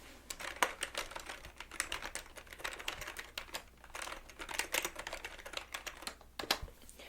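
Rapid, crisp typing on a computer keyboard at a beauty station, close and fairly quiet, a steady stream of clicking keystrokes with no talk.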